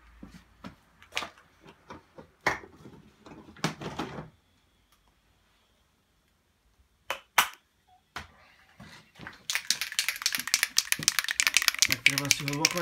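Toward the end, a fresh aerosol spray paint can is shaken hard, its mixing ball rattling in a rapid, loud, close run of clicks. Earlier, scattered knocks and handling noises come before a quiet pause.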